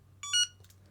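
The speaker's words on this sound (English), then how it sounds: "You'll get a beep. That's now telling you that this is set to S-bus." A Flysky FRM303 RC receiver module gives a short electronic confirmation beep made of three quick tonal pips, followed by faint clicks over a low hum.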